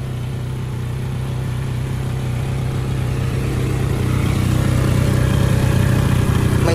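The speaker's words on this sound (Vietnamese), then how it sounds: "Và mình sẽ vẫn để nổ máy như này, vẫn để đèn sáng như kia." A motorbike engine idles steadily with a low, even mechanical hum and rumble, left running during a battery charging test on a setup powering LED lights, growing slightly louder toward the end, with no voices.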